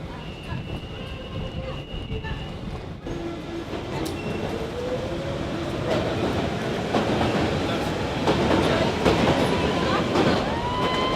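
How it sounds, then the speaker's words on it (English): London Underground Central Line train bound for West Ruislip, rumbling steadily with rail clatter and a rising whine as it moves, loud and close throughout with a voice briefly audible. "This is a Central Line train to West Ruislip."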